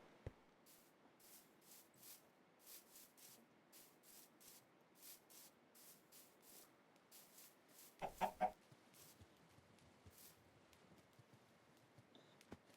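Faint clucking of a chicken in a Minecraft-style video game, short bursts repeating steadily across the stretch, with a louder cluster of clicks partway through, quiet and alone without talk.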